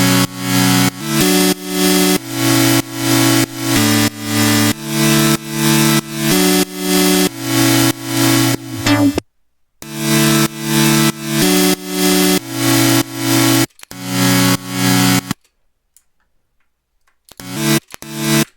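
Bright synth chords from a Dariacore project pulse in a steady repeating rhythm, loud and dense. They drop out briefly, return, then stop into near silence with a couple of faint stray clicks at the end.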